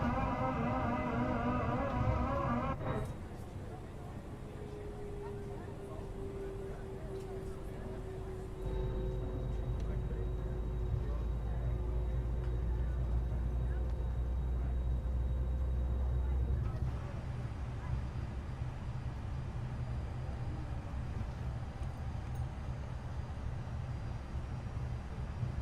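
Engine two of an Aer Lingus Airbus A330neo spooling up in Microsoft Flight Simulator, a low steady rumbling drone with a faint rising whine that settles into a continuous hum, with a voice speaking over parts of it.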